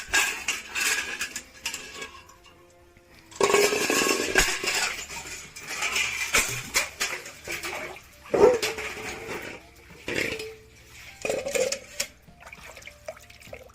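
Water splashes and sloshes as a bucket is dipped and drawn up, with metallic clanks and knocks in irregular bursts close by.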